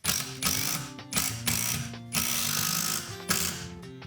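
A carpenter cranks a ratchet tool to tighten a fastening while joining an addition to an old building, giving repeated bursts of close, loud clicking with short pauses between strokes.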